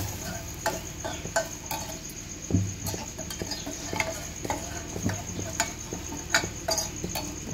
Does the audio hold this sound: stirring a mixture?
yes